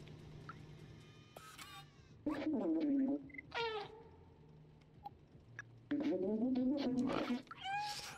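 A cat meows in the video game Stray, with several distinct rising, harmonic cries spread across the stretch and a low hum of game ambience underneath. Someone talks in places.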